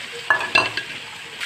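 Taro stolons tipped into a shrimp curry frying in a pan: a couple of sharp clattering drops and stirring scrapes over a soft sizzle, with no talking.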